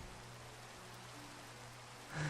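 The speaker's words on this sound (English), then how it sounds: "And it is raining again." Minecraft rain falls as a soft, even hiss of drops, faint and continuous throughout, with a brief louder swell at the very end.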